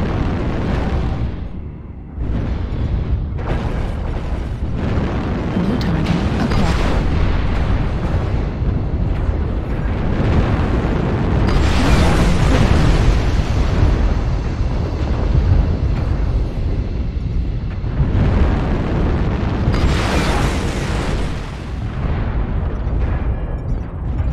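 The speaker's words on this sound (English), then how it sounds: "Artillery strike online" Artillery strike explosions in the video game DV-6M roll on without pause, loud, heavy booming blasts overlapping into a continuous rumbling barrage with several sharper surges.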